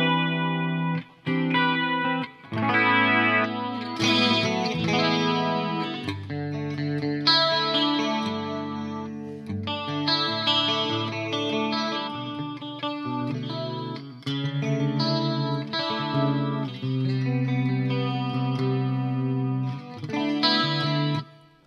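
Harley Benton Dullahan electric guitar switching between bright bridge and neck pickup settings, with spanky picked chords and riffs, short pauses between phrases and a shimmering chorus-like effect throughout.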